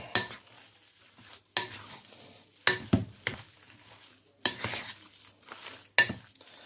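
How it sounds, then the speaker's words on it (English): An egg being mixed by hand into a shami kebab mixture, intermittent spoon scrapes and knocks against the bowl in irregular bursts, close and fairly quiet, with soft gaps between strokes. "just mix the egg in, and then the whole mixture becomes slightly wet."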